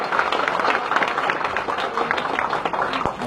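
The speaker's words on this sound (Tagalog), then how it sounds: "Palakpak ulit." An audience at a gathering breaks into dense, steady applause, with many hands clapping continuously at an even level for a few seconds.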